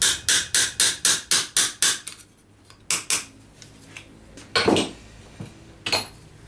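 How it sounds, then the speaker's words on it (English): A hammer drives a chisel against the metal backplate of a gothic gauntlet with eight quick, even ringing strikes, then a pause and a few scattered, irregular taps and knocks, close and sharp. "Take a hammer with a chisel"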